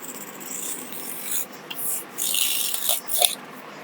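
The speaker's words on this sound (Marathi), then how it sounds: "तर असा मी पुठ्ठा घेतला आहे आणि हे कटर आहे. हे पहिले मी लाईन कापून घेते." A utility knife cuts along a line through a sheet of cardboard in several short, scratchy rasping strokes separated by brief pauses, close to the microphone.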